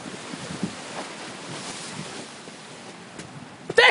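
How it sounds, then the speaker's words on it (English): Winter ocean waves wash against the shore in blowing wind, a steady rushing surf with gusty wind buffeting the microphone and a brief louder burst at the end. "she's just filming the waves crashing against the shore"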